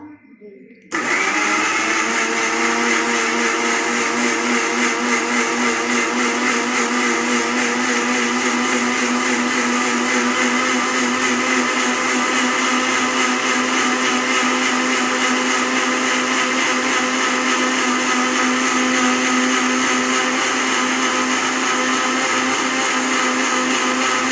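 A blender grinds dragon fruit into juice, running as a loud, steady motor whir with dense high-pitched churning that starts after a brief quiet moment and holds constant throughout.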